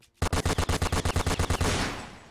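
Rapid machine gun fire in a Roblox shooter game, about a dozen evenly spaced, loud shots in a quick burst that ends in a fading rumble.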